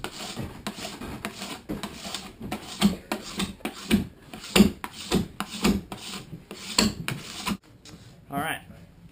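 Hot wax being scraped off a snowboard base: repeated rasping strokes, each a sharp scrape in an uneven rhythm, close and fairly loud, with a short different scraping sound at the end.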